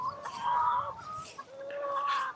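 Farm chickens from a pasture-moved eggmobile on a regenerative farm cluck and squawk in several close, overlapping calls, moderately loud with no talking.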